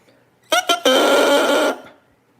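An Arundo donax cane reed being blown: two short squawking bursts, then a sustained buzzy, reedy honk lasting about a second before cutting off, loud and close.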